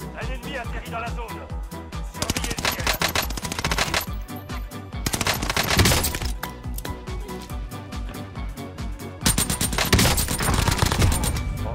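Rapid nail gun fire in the shooter Warzone, dense bursts of repeated shots with loud gunfire throughout, mixed with game sound and a player talking over it.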